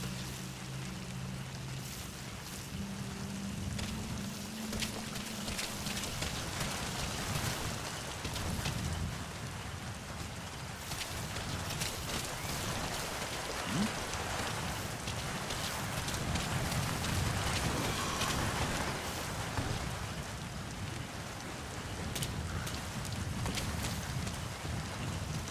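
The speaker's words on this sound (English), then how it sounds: "Rain. Sound of rainfall should help to mask your footsteps." Steady rainfall in the stealth game Metal Gear Solid V, a soft continuous hiss of rain pattering on surfaces with low ambient rumble, fairly quiet and constant with no talk.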